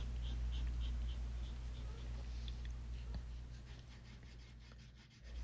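Colored pencil shading an apple drawing on paper gives a soft, continuous scratchy rubbing, steady and close, over a low background hum.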